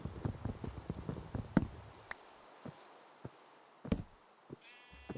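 Minecraft sheep bleating in a farm game, several short separate calls spread across a few seconds with soft clicks and knocks between them, plus a brief high tone near the end.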